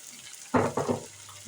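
Water splashes into a cooking pan of ground chili, turmeric, coriander and cumin in two short close pours, then quiet.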